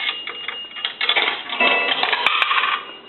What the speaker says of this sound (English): And a quarter is going to gong.